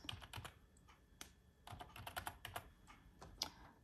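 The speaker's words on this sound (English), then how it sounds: "And then I'm going to type her name, Miss Masters." Irregular keystrokes clatter on a computer keyboard while a name is typed during mug-design work, quick taps in short bursts, close and fairly quiet with no voice.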